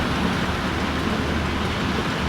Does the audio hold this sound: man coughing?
no